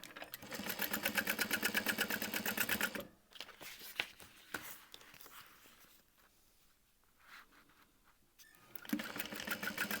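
A domestic sewing machine runs in steady rapid bursts, stitching an upper gusset piece to the lining of a crossbody bag, with a long stretch of stitching, a pause with small handling clicks, then another burst.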